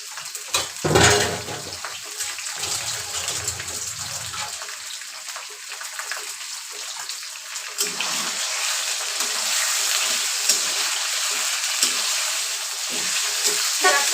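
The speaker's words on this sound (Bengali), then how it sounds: "এবার এর মধ্যে আমি মাংসটা ভেজে নেব সুন্দর করে।" Chicken pieces sizzle in hot oil in a pan after onions have been fried, with a steady frying hiss that grows fuller and louder midway, and occasional stirring scrapes.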